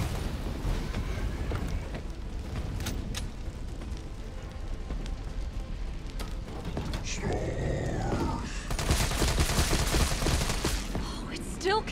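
Gunfire aimed at a fuel tank in Resident Evil 3 crackles in a continuous rattling barrage under game noise, swelling near the end with a louder burst and a sweeping whine.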